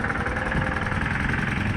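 Trawler boat engines run at a busy ghat on the Ganges, a steady low mechanical drone with a knocking throb over a broad noisy background. Nobody speaks.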